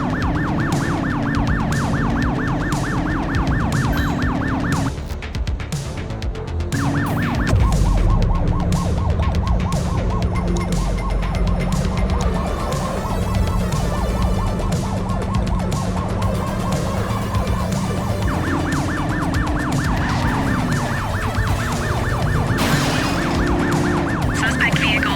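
A police car siren wails continuously during a chase in The Precinct, loud and close, cycling through rising and falling tones with a brief switch in pattern midway, over steady engine and traffic noise.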